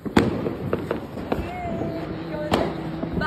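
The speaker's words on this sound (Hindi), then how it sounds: "वो बम फूट रहे हैं बहुत अच्छे अच्छे" Diwali firecrackers bursting, a few sharp cracks and bangs spread across a couple of seconds, some nearby and some farther off, with people talking in between.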